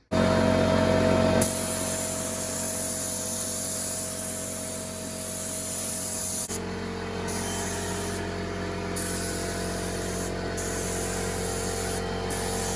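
Spray gun applying glue to headliner material during a 1985 Chevrolet C-10 upholstery job, a loud continuous hiss that starts abruptly, runs steadily, then shifts tone with short pauses between passes.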